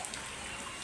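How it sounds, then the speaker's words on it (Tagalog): Dense, steady rainfall patters and hisses outdoors, a constant wash of water noise with no voices. "Lakas ng ulan dito sa labas."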